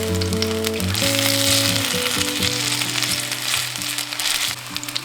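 Bread patties frying in a hot pan with toasted sesame seeds sprinkled on top give a steady, close, loud sizzle and crackle that carries on without pause, with a low background hum underneath.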